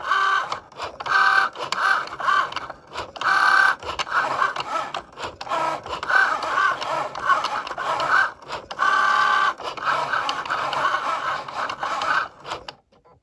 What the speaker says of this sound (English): I'm just gonna click go and let the machine do its work.